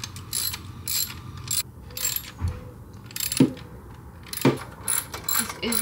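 A ratchet wrench clicks in quick bursts while tightening bolts on a 2015 Mustang GT during an E85 flex-fuel kit install, with a couple of metallic clanks between bursts.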